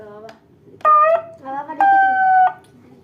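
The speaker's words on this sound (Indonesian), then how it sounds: "Kalau kita lepas, sirine berbunyi" A TOA ZR-2015S handheld megaphone sounds its siren when the microphone is released: short, close electronic siren tones in two or three bursts, clear and loud against a quiet background.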